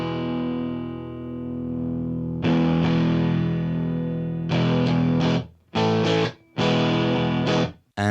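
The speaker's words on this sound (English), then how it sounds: "So going back to our more crunchy, heavier tones, I'll do the second one actually, because the neck pickup one that I've got is a bit darker." Crunchy, heavy distorted electric guitar on the neck pickup, shaped with stock Ableton plugins: a long ringing chord fades, then a sustained chord and a run of short, choppy stabs with hard stops, loud and dense.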